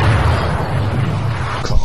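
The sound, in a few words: explosion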